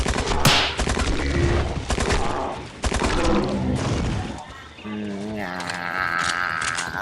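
Scattered gunfire aimed at dinosaurs in the video game Dino Hunter: Deadly Shores, with repeated shots mixed into dense game sounds and music that swell and fade across the stretch.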